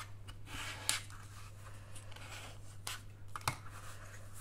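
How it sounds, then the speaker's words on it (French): Scissors trim the sides of folded paper for a Halloween ephemera book craft, with faint snips and papery rustles over a steady low hum. "Et ensuite, on va venir découper donc les côtés."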